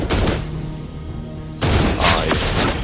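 Granger's ultimate gunfire in Mobile Legends, a loud dense burst of rapid shots followed by a pause and then another heavy volley of booming impacts, close and alone.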